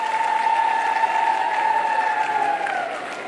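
Loud, sustained applause from an audience at a Chief Minister's allowance distribution ceremony in a village program, a dense, steady clatter of clapping with a thin whine running through it before it eases off at the end.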